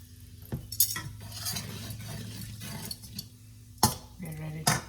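Bottle gourd koftas fry in a pan under a low steady sizzle, broken by sharp metallic clanks of a utensil against the pan, with a voice speaking in between.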